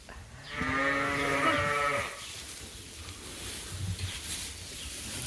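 A ewe on a sheep farm gives one clear, wavering bleat lasting over a second, fairly close, followed by quiet pen ambience.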